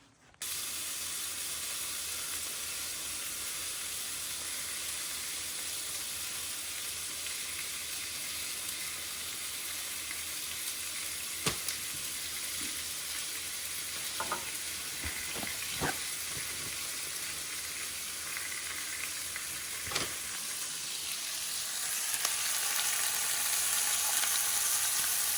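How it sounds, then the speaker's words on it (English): Bacon frying in a restored number 9 cast iron skillet makes a steady, fairly faint broadband hiss, with a few scattered clicks and pops over the sizzle and no one talking. "we're gonna cook some bacon in this number 9"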